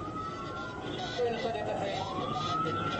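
An ambulance siren wails through backed-up traffic at a checkpoint in Baghdad, its rising and falling tone sweeping steadily over a dense hum of street noise, moderately loud and somewhat distant.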